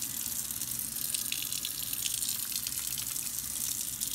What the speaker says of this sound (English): And then you rinse it off.